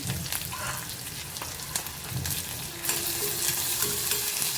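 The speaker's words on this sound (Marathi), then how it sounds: "कांद्याचा थोडासा कच्चापणा जाईपर्यंतच आपल्याला त्याला परतायचं आहे" Onion, green chili and curry leaves sautéing in a hot mustard-cumin tempering: a steady close sizzle with scraping stirs, louder spitting crackle toward the end, no talk.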